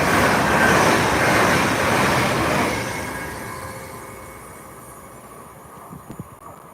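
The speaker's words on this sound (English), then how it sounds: "Transpennine Class 800. 802 to be precise." A TransPennine Express Class 802 train rushes past close by with a loud roar of wheels and rail noise that fades steadily as it moves away, with no talk.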